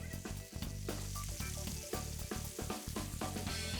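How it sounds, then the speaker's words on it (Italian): Sausage sizzling and browning in a frying pan, a steady loud crackle with spitting pops throughout and no talk. "Aggiungo la salsiccia e la faccio rosolare per circa 10 minuti."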